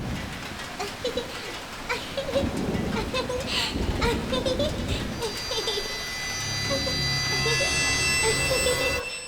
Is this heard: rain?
yes